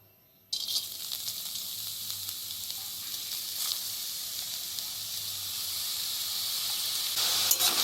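Washed mung dal hits a hot wok and bursts into a sudden loud sizzle after a brief quiet moment, then settles into a steady hiss that swells slightly toward the end.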